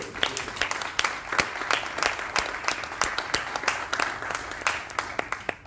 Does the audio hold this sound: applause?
yes